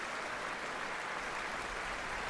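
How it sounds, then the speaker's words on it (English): Audience applause after an orchestra concert, a steady wash of clapping filling the hall evenly for the whole stretch, with no break or voices standing out. "Vesa-Matti Leppänen returning to the stage to accept yet more applause"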